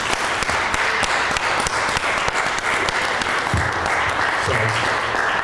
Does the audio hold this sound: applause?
yes